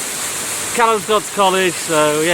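Lumsdale Waterfall, running below full flow, gives a steady broadband rush that continues throughout while someone talks over it.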